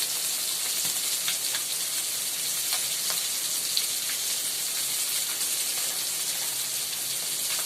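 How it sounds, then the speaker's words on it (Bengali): Fish frying in a pan in a home kitchen gives a steady, loud hiss of crackling oil with scattered sharp pops throughout, heard alone with no talking. "মাছ ভাজা হচ্ছে।"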